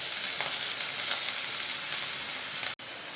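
Chopped shallots, curry leaves and green chillies sizzle in hot oil for potato bonda masala. The loud hiss is steady and close, then cuts off abruptly near the end.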